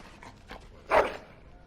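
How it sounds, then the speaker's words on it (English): A dog in the Dragon Age: Origins video game gives a single short whimpering yelp near the middle, brief and moderately loud against quiet background sound. "Bloody dog."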